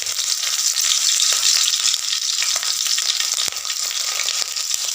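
Panch phoron spice mix and green chillies sizzle and crackle steadily in hot oil, a loud, continuous close-up frying hiss with occasional sharp pops and a few stirring scrapes, no voices.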